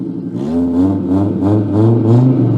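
An Audi 100 C engine revving through its exhaust, loud and close, with repeated rising and falling throttle blips over a steady idle rumble.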